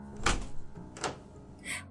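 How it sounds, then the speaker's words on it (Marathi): A door being opened, heard as a couple of dull wooden thunks and rattles, close and moderately loud, followed by a brief higher clack. "तसा काही वेळात दरवाजा उघडला गेला"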